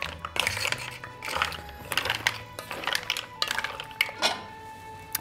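Mussels are stirred with fennel and white wine in a pot, giving repeated clattering scrapes and clinks of shells against the pot in irregular bursts, close and fairly loud.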